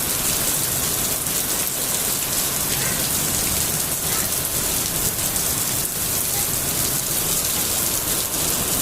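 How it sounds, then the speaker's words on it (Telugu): Heavy rain pours steadily in Bhuvanagiri at night, a dense, loud, unbroken hiss and patter of drops hammering surfaces, with no pause across the stretch. "మస్తు అంటే మస్తు అండి వర్షం."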